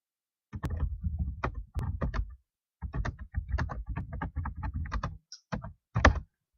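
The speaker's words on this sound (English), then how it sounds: "I'm going to type my response." A response is typed on a computer keyboard in close, crisp key clicks. They come in quick clusters with brief pauses and end in a heavier final tap, with no talking.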